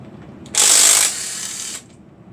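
Ratchet wrench loosening an over-torqued bolt during a blown Hemi engine teardown: a single loud, sustained rapid clicking burst of about a second, easing slightly before stopping.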